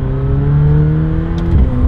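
McLaren 720S, a 720 horsepower supercar on summer tyres, driving twisty Black Forest roads: a steady engine drone with rising harmonics, held at a constant loud level for a couple of seconds, heard from inside the car.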